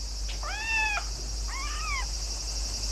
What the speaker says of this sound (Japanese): あれ、猫がいますよ。